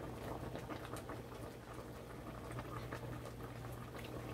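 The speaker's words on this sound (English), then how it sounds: "Come to a boil now." Wonton soup broth at a steady rolling boil in a pot, a dense, continuous bubbling and popping with a low steady hum underneath, close by and unbroken throughout.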